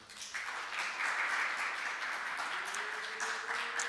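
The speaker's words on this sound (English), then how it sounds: "let's give a round of applause to contestant number 1 first." An audience at a Nordic game discovery contest claps for a contestant, producing sustained, fairly loud crowd applause throughout.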